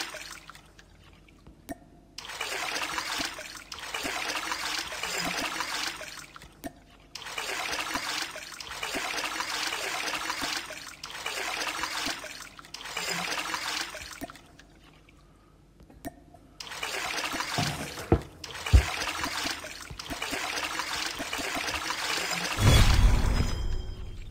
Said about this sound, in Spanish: Estamos bombeando todo el agua.